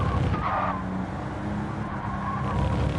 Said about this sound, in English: he's got that car humming now